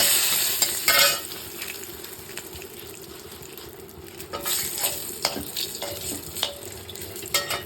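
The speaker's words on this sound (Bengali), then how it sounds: "এবার আমি দিয়ে দেবো শুকনো লঙ্কা কয়েকটা, এটা একটু ভেজে নেব" Dried red chillies fry in hot oil in a pan, giving a steady close sizzle with intermittent scraping stirs and light clinks, and no talking.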